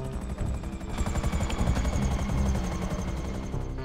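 Helicopter in the GTA Online Casino heist, flown on keyboard, its rotor a steady loud thudding drone with engine whine throughout, no talking over it.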